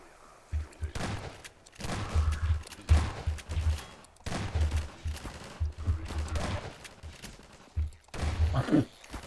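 Gunfire in the video game Half-Life 2, several bursts of shots spread across the clip, moderately loud, with a voice talking in between.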